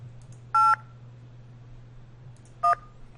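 Two short bursts of telephone keypad dialing tones from the video game Tex Murphy: Overseer, separated by a pause over a steady low hum.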